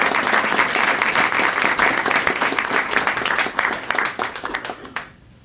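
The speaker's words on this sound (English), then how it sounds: "let's give him a big round of applause." Applause from the audience at an Osceola School District board meeting: dense, sustained clapping from many people that holds steady, then thins and fades out quickly at the end.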